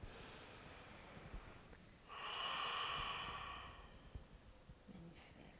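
A deep inhale during a prenatal yoga class, a single slow breathy rush of air lasting about two seconds, close and soft, after a quiet stretch with faint movement around it.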